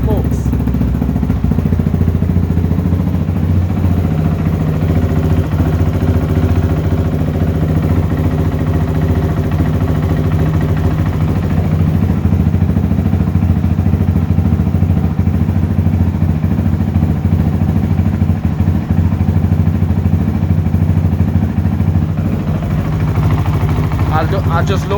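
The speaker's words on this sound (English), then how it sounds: "But right now, this exhaust sounds beautiful." A 2022 Honda CRF450RL motorcycle fitted with an FMF exhaust idles close by with a steady, throbbing low rumble, and a voice talks over it now and then.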